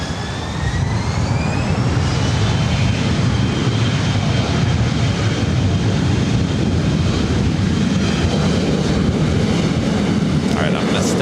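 A jet airliner taxis across a runway at LAX, its loud steady engine roar and whine filling the scene up close, with wind buffeting the microphone and a voice talking over it.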